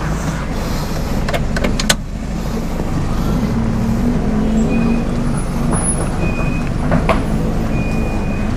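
A 2000 Toyota Soluna GLi with automatic transmission creeps forward in Drive without throttle, giving a steady low engine hum and cabin rumble with a few faint clicks and squeaks, close and unbroken.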